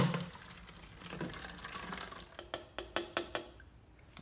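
Engine coolant is poured from the reservoir of a Honda Civic Type R (FK8) into a clean container: a soft, steady liquid pour followed by a series of close, distinct splashing drips near the end.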